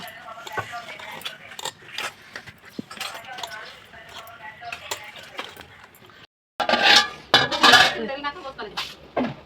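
A spoon clinks and scrapes against a metal pot while a thick preparation is stirred at home for a village goddess festival offering, with irregular close knocks and rattles, briefly pausing before louder scraping resumes.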